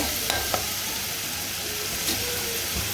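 Vada fish curry masala paste fries in a pan with a steady, dense sizzle, and a few faint scrapes and taps from stirring cut through it.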